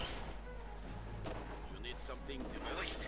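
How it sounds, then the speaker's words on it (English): An MG42 machine gun fires in the World War II strategy game Company of Heroes 2. Faint, rattling bursts and distant booms sit quietly beneath a commentator's voice. "Gun MG42 firing away here."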